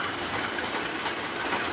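KRL commuter train passing overhead on an elevated track, a steady broadband rumble of rail cars with faint clickety-clack, close and continuous throughout.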